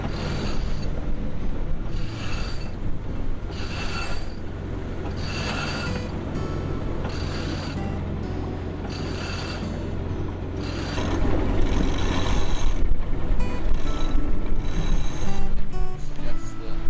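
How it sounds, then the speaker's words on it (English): Sailboat winch cranking a halyard to hoist the sail up the mast, a dense continuous ratcheting clatter with rhythmic pawl clicks that grows louder near the end, close and steady throughout. "use the halyard with a winch to hoist the sail to the top of the mast"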